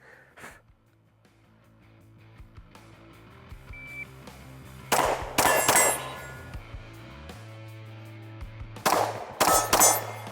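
Fifteen rounds from a CZ P-10C ported pistol ring out against steel targets, loud sharp shots in two rapid bursts, each followed by bright metallic clangs from the struck plates.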